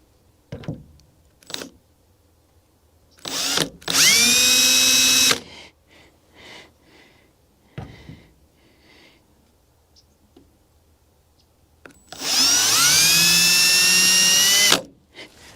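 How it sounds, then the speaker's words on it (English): Two loud bursts of a power drill whirring at close range as it bores holes for hood strut brackets on a 1979-98 Ford Mustang, separated by quiet pauses filled with handling clicks and knocks. "I'm going to come back with the drill bit."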